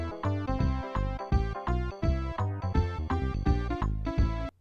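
A Casio CA100 keyboard (Realistic Concertmate 670) recorded from one speaker leg against ground, playing a bright, busy electronic tune with a steady beat and chords, dense and moderately loud with no voices.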